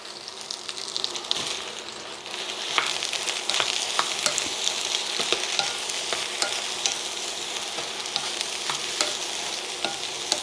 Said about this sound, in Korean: 이렇게 가지를 기름에 먼저 볶아서 사용하면 풀어지질 않더라고요